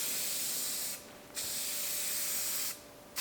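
An aerosol can sprays tint coats onto a Ford F100 Dentside truck tail light in two close, steady hissing bursts separated by brief pauses.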